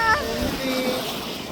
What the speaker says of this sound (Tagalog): Ang lakas ng alon.